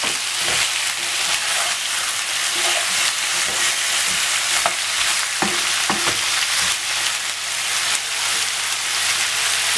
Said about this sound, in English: we fry it.